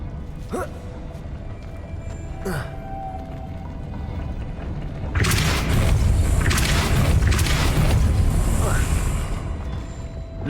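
Depulso spell cast in the video game Hogwarts Legacy, a deep rumbling blast that swells midway and lingers over faint game ambience, with a few soft whooshing effects before it.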